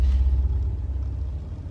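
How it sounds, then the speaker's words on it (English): A car passes by outside at night, a low, steady rumble that stays loud through the whole moment and fades slightly toward the end. "Whoa, there's a car."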